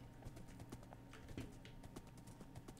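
Galloping horse hooves in the Minecraft video game, a quick, rhythmic clip-clop of steps repeating steadily, faint and in the background.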